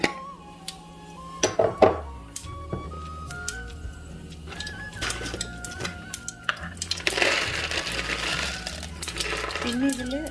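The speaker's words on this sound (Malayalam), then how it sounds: "ഇനി നമുക്ക് കുറച്ച് കടുക് ഇടാം." Mustard seeds go into hot oil in a pan for poha: scattered clicks and taps at first, then a dense sputtering crackle swells up near the end, with a voice at times.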